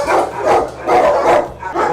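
Dogs barking at an SPA animal shelter in France, a run of loud, close barks and yips repeating in quick bursts with barely a pause between them.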